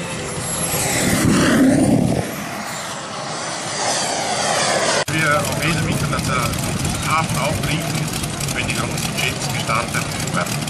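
A model jet's engine roars and whooshes past at an airfield flight show in Hohenems, a loud sweeping turbine rush that rises and recedes, with people talking throughout.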